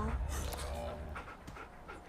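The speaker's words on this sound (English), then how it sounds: "Look at puppy!" A tamed fox companion in a video game pants in quick, close, rhythmic breaths with a faint whimper, while a person talks over it.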